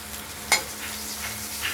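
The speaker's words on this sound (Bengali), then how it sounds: "মাছগুলো ভাজা ভাজা হচ্ছে দেখুন হয়ে গেছে নামিয়ে নেবো আমরা" Katla fish pieces fry in a pan with a soft, steady sizzle, broken by a single quick clink of a utensil stirring near the start.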